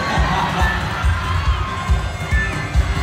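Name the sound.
crowd cheering in gymnasium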